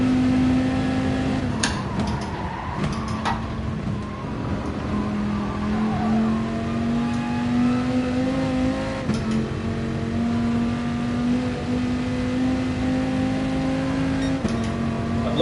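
A car engine drones steadily while lapping the Nurburgring at night. Its pitch holds a sustained, loud note, with a few brief dips where it shifts or lifts off.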